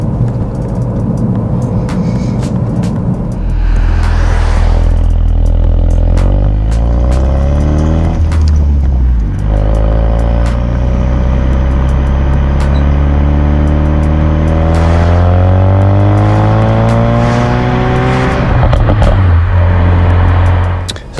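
A Ford Focus RS Mk3 engine revs and accelerates up through several gears, loud and close, with rising whines and brief dips between shifts.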